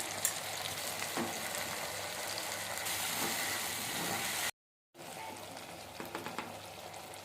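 Tomatoes and turmeric frying in a pan for a sardine curry: a continuous, fairly loud sizzle with occasional stirring clicks, broken by a brief moment of silence midway, and no one speaking.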